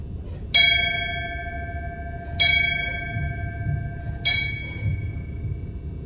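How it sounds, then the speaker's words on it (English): A church bell rung for military service members, struck three times at slow, even intervals, each bright clang ringing out and fading slowly over a low background rumble. "Brother Ed will ring the bell."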